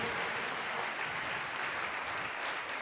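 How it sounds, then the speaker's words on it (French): Concert audience applauding itself in a venue hall, a continuous dense wash of clapping, steady and even, moderately distant, with no talk audible. "Vous pouvez vous applaudir, messieurs, dames, bravo."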